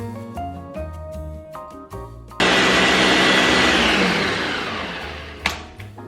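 A blender purees ice for a virgin piña colada, starting with musical tones before the motor kicks in loud and steady, a dense churning roar that slowly eases, with a brief knock near the end.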